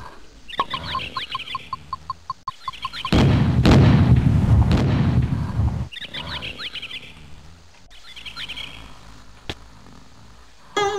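In the PC video game The Fortune Cookie, a booming bomb explosion rumbles for about three seconds. Chirpy, bird-like game effects and rapid ticking come before and after it, and another short thud follows near the end.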